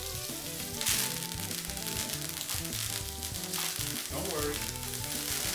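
A garlic clove and thyme sizzle in a hot pan beside steak, a dense, steady crackle under a speaking voice and some background music.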